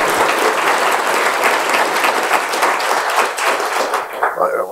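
An audience applauds to welcome a speaker before his talk on the evolution of MATLAB, giving dense, sustained clapping from many hands that thins out near the end as a voice begins.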